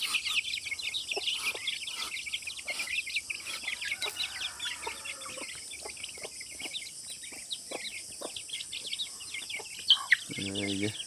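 A flock of ducks being fed calls out in rapid, overlapping quacks and clucks, a busy chatter of close and farther birds with a few louder bursts near the end.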